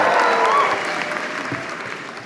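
Graduation convocation audience for the Faculties of Education and Management cheers and applauds in a sustained, dense roar that starts loud and gradually tapers, with a brief whistle-like cheer early on.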